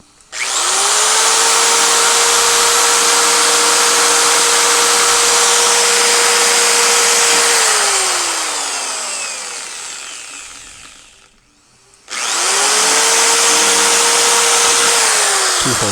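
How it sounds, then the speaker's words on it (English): A power drill whines steadily through metal pipe, drilling holes in the corners of a frame in a rock yard, for several seconds, winds down to a stop, then starts up again loud and close. "I'm drilling holes in the corners for the lift"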